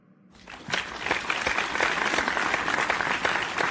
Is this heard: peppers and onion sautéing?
no